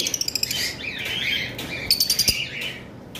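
Pet lovebirds, including blue opaline pairs kept for sale, twitter close by in quick, high chirps and short trilled bursts over a steady background hum.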